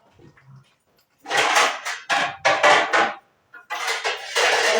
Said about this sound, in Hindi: ये 3 ट्रे रख लूँ ऊपर।